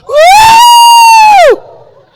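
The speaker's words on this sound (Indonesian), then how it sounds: "Sama-sama teriak 1, 2, 3." During a church sermon, the congregation lets out one loud shout together on a count of three, held as a strong, sustained tone for over a second before cutting off into quiet room noise.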